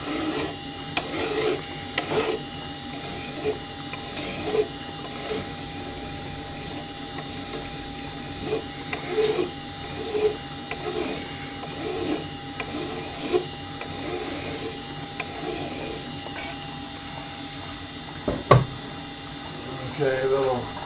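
A hand file rasps across the threaded end of a part turned on a mini lathe, clearing burrs in repeated uneven strokes close by, with a steady compressor hum underneath and a sharp knock near the end.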